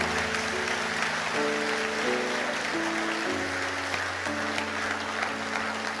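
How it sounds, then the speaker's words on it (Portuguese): A church congregation applauding during a sermon, a continuous wash of clapping under sustained music with steady organ-like tones, fairly loud and even throughout. "Dê um aplauso bem forte ao Senhor"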